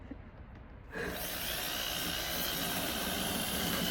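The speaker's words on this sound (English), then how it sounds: "Go on, show them how you use the drill." A power drill spins up partway through, holding a steady close whir while it buffs a car headlight during restoration.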